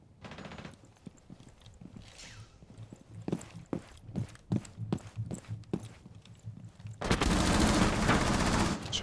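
Gunfire in Rainbow Six Siege, aimed through a wall: a run of sharp, separate shots and short bursts at an uneven pace, followed by a loud, dense stretch of noisy gunfire near the end.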